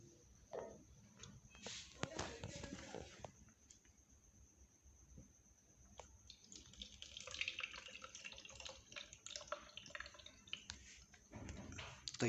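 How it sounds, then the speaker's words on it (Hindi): Water is poured into the tank of a facial steamer and inhaler, giving a splashing trickle with drips and small plastic clatters, stop-and-start at first and then a longer steady stream, close and quiet. "चलिए हम अब इसके अंदर पानी डालते हैं"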